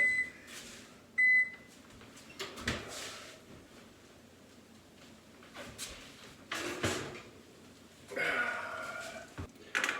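A short electronic beep from a microwave oven cooking bacon, then quiet kitchen clatter and shuffling, with a few more knocks and rustles nearby.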